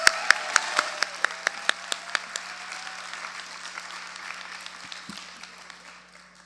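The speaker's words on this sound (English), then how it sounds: "I want to give him a round of applause again" A round of applause for a speaker at a labor conference of striking workers: a few loud, sharp individual claps ring out near the start, then softer scattered clapping fades away.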